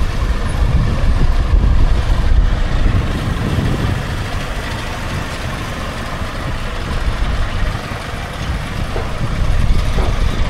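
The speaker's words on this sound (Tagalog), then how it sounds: "Yung jeep, napatras na." A jeep's engine idles with a low steady rumble as the vehicle reverses onto a ship at a port, surrounded by loud, constant harbor noise.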